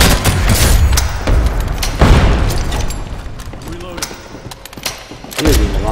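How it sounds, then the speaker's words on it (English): Grenade blast and gunfire in the Ghost in the Shell shooter game: dense booming thuds and rapid shots in a chaotic, loud burst, with a voice talking over the combat. "There goes my grenade."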